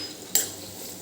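Medium-sized chopped capsicum tipped into a pan of softened tomatoes for a Punjabi-style corn curry, a single near clatter of utensil against pan followed by brief faint stirring.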